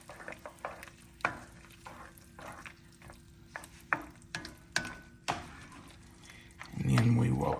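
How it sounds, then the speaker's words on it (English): Sauce being stirred in a pan for a shrimp and mushroom dish, giving a run of short scraping clicks of a utensil against the pan, then a louder sizzle near the end. "Let's just stir that in."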